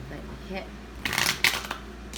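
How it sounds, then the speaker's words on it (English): A deck of Wisdom of the House of Night oracle cards is shuffled by hand in two or three short, crisp riffling bursts, close and fairly quiet, with a little soft rustling between them. "as I went to shuffle the Wisdom of the House of Night, they didn't want to shuffle."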